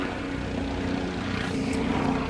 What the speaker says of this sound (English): Here comes a helicopter. Maybe getting some aerial shots of the tornado.